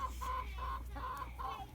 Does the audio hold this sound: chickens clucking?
yes